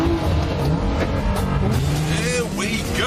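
A Nissan four-wheel-drive car accelerates on a low-grip Icelandic surface, its engine note rising steadily and sweeping upward as it pulls away, heard close with voices talking over it.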